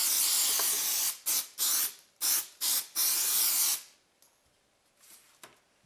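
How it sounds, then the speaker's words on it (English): Several short hissing bursts of CA glue accelerator are sprayed onto a wooden backerboard for intarsia woodworking: one long spray, then quick repeated pumps, another long hiss, and faint handling noises afterward. "Spray the back of your backer board with accelerator."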